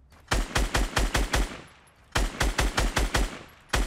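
Rapid bursts of automatic gunfire in a Fortnite Battle Royale match, two loud volleys of about seven quick shots each with a third starting at the end, crisp and close with a short decaying tail between bursts.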